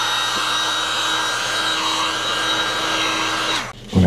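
A heat gun or hair dryer blows steadily while warming a car emblem to loosen sticky vinyl residue. The loud whooshing hum holds steady, then drops off sharply near the end with a brief thump, and no voice is heard.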